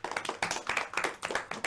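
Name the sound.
applause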